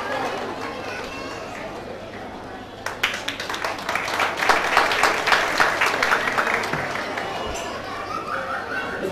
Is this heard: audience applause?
yes